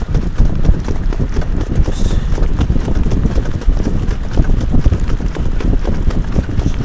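A trotter mare's hooves clip-clop in a quick, even rhythm as she is driven on a loose line, the close hoofbeats steady throughout with a little wind noise.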